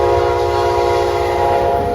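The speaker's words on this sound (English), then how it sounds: "here's Amtrak PO41 with a nice Phase 5 P42 duo" Amtrak P041 led by two Phase 5 P42 locomotives rushes past fast and close, a loud continuous roar of wheels and engines with a sustained horn tone layered on top.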